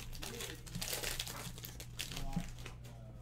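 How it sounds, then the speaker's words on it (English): Trading card packs crinkle and tear open in steady rustling bursts close to the mic, while a quiet voice talks over the crinkling and a low hum sits underneath. "Just having a delightful evening,"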